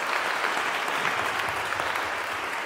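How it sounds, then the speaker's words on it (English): A town-hall audience breaks into brief, steady applause for a slate of New York political candidates, many hands clapping evenly for a few seconds with no speech. "We could clap for the whole slate."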